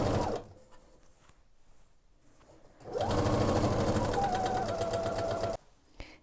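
A sewing machine topstitches a blouse sleeve, running in a short burst, pausing, then running again in a steady, close, continuous whirring stretch for a few seconds before stopping.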